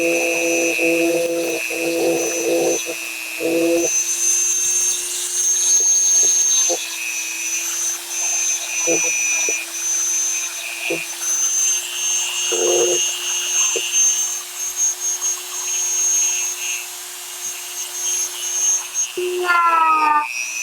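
Polishing wheel buffing high frets on a Cort Ouija guitar with polishing compound: a loud, steady high-pitched motor whine throughout, with brief scraping bursts as the wheel meets the metal and a pitch sweep near the end.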